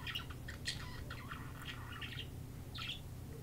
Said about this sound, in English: you can hear my bird